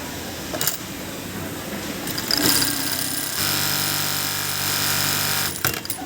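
A Brother HE 800A computerized sewing machine runs a stitching pass, with a steady mechanical whir of about two seconds between clicks and button beeps. It is moderately close and no one speaks.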